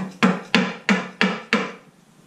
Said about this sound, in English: I'm going to take a sacrificial block as to not damage my rabbet on the back of the tread and lightly tap this into place.